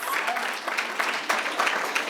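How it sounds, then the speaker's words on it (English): An audience applauds a city clerk's speech at a Chicago event, with a short stretch of steady, moderately loud group clapping. "I like the claps"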